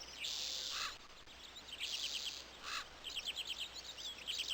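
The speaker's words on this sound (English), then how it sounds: "One can always expect to find a bird loitering around the statues in the park" A crow calls near park statues in Fable. Faint, high chirping calls come in short clusters over a soft, steady ambient background.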